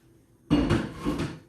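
A metal lid lands on a pot of boiling salted pasta water on the stove, a single close clatter of metal on metal with a brief ringing rattle as it settles, after a quiet moment.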